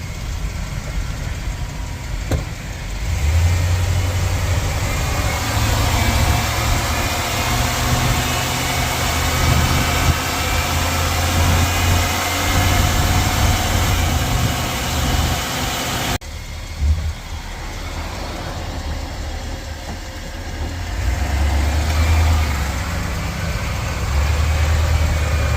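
A 2000 Chevrolet Express 2500 van's engine idles steadily with a low rumbling drone and faint mechanical clatter, continuous and close for the whole stretch, with a brief dip midway and no talking.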